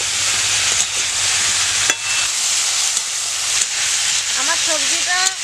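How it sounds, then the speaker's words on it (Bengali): Vegetables seasoned with turmeric and salt fry in a pan with a loud, continuous sizzle and occasional stirring, and brief chirps are heard near the end. "সবজিটাতে আমি এক চামচ হলুদের গুঁড়া দিয়ে দিচ্ছি লবণ সবজিটা একটু লাল লাল করে ভেজে নিতে হবে"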